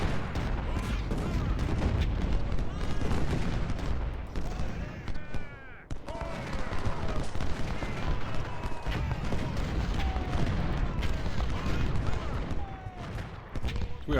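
Cannon fire in the Civil War strategy game Ultimate General: Civil War, a steady barrage of booming artillery shots and crackling musketry layered under talk, with a brief lull partway through.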